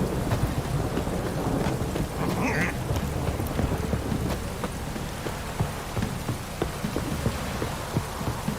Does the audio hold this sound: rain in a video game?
yes